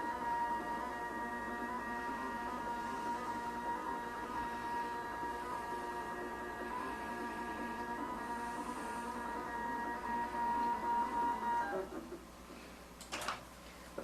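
An iQ computerized quilting machine moves its head to the quilt edge with a steady, tonal motor whine that runs for about twelve seconds and then stops, followed by a couple of faint clicks.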